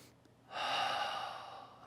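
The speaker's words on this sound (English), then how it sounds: "take a nice deep breath" One long, deep in-breath, soft at first and then a steady airy rush lasting over a second, close and alone during a guided breathing meditation.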